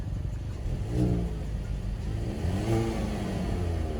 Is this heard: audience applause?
no